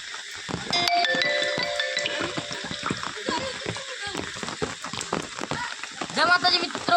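Heavy rain pours on a village farm field, a dense continuous patter and splash with scattered louder drops, while people talk over it.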